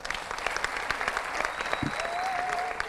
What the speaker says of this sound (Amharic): በድጋሚ አጨብጭቡላቸው።